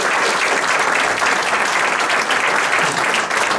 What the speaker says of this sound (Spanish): les pido un fuerte aplauso para hacerlo.